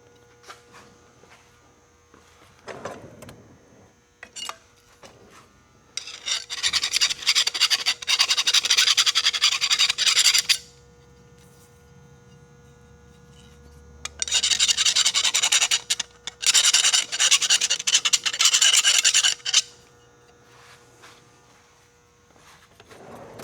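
A file rasps burrs off the end of a metal part for a homemade trencher. It comes in two long, loud, close bursts of rapid scraping with quieter gaps between them.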